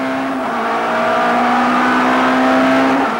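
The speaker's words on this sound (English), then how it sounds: "with the cars building up to more than 200 k's an hour here" Touring cars racing at speed at Kyalami, heard from an in-car race camera: a loud, sustained engine drone holding nearly steady pitch, rising slightly in loudness near the end, with no talk.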